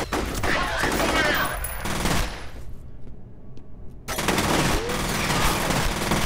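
Sustained rapid gunfire in F.E.A.R., loud machine-gun volleys with a short quiet pause midway before the shooting resumes, with voices mixed in.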